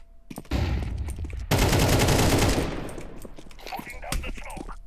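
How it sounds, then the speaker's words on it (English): Flashbang grenade thrown in Counter-Strike 2: a loud burst and sustained bright blast ringing for about a second, set among game noise, footsteps and other clatter before and after. "Flashing over. Throwing a flashbang."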